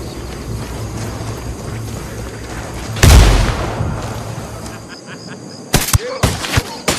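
A C4 demolition charge detonates at an oil rig in Ghost Recon Wildlands, one loud close boom about three seconds in, followed by sharp gunshots and clatter near the end.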